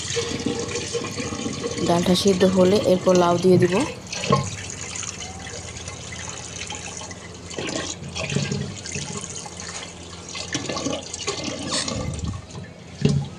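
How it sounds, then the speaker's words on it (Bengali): Tap water running while anchor dal is washed for a pressure cooker in a home kitchen, splashing and trickling through most of the stretch, with someone talking over it at times. "তো প্রেশার কুকারে প্রথমে অ্যাঙ্কার ডালটা আমি ধুয়ে এরপর বসাবো"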